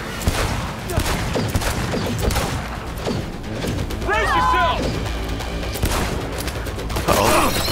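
Gunfire from a Cyberpunk 2077 firefight, with loud rapid bursts and mechanical clacks mixed with dense game effects, ringing tonal sounds and talk over a busy, continuous bed.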